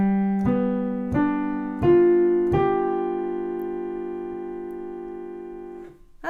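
Four piano notes strike one after another at a steady pace, and the sustain pedal holds them so they ring together into a lingering blended chord that slowly fades, with no talk.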